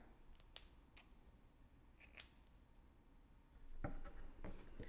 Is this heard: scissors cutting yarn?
yes